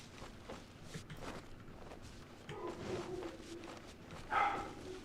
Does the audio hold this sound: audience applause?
no